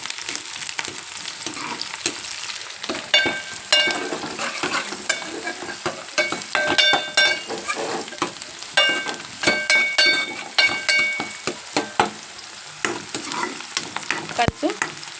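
Potato and brinjal curry sizzles in a pan while being stirred, loud continuous frying with repeated scraping strokes and clattering of a spoon against the pan.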